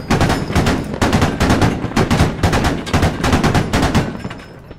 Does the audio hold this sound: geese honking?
no